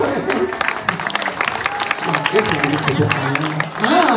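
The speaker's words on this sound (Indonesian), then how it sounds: "Oke, tepuk tangan." An audience at a Balinese Calonarang performance at a temple claps in a dense, sustained burst, with a voice talking over the applause throughout.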